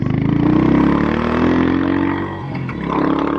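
Royal Enfield Hunter motorcycle fitted with AEW exhaust pipes runs through a spin test, its engine droning steadily close by with shifting pitch as it circles, no talk over it.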